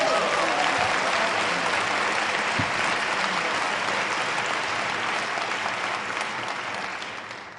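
Loud, sustained applause from a large debate audience, steady throughout and easing slightly toward the end.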